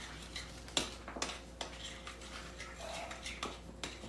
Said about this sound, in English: Just mix the Easy Sweets into the cream cheese.